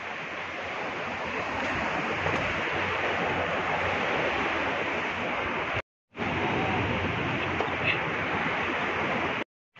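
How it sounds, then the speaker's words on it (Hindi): Sea waves rolling in at Bandstand beach in Bandra, Mumbai, a loud, steady wash of surf filling the whole stretch, with two brief dropouts near the end. "ये देखो लहर आ रही है"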